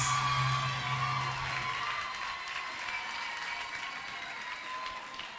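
Audience applause at a Tamil music competition show, a steady dense clapping with some cheering that fades slightly over several seconds, with no talk over it.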